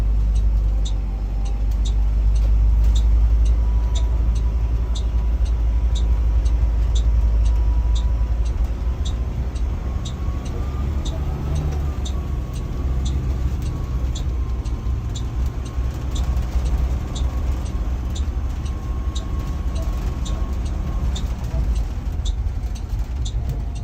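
A Class B school bus engine rumbles steadily as the bus drives slowly around for alley docking, a continuous loud low drone with faint regular ticking over it and no talk.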